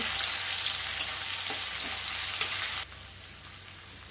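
Chopped onion frying in oil with bay leaf and cumin gives a dense, even hiss close by with occasional light stirring taps; the sizzle drops noticeably quieter near the end.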